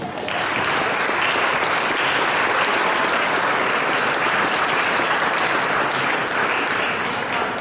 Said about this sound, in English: can I please have all club badminton players stand up and give them a round of applause?